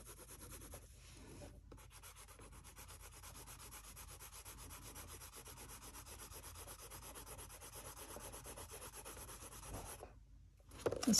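Steady, close scratchy rubbing as a colored pencil moves back and forth across paper, continuous with a brief pause near the end.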